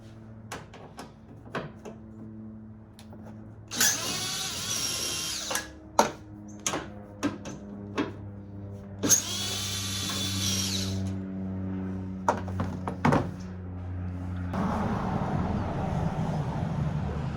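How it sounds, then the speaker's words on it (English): A power drill backs Torx screws out of the left tail lamp on a 2017 Toyota Tundra, with two sustained whirring bursts separated by sharp clicks and ratcheting taps, close and with no talk. "So we'll start with the left side tail lamp and go ahead and get the Torx removed out of it."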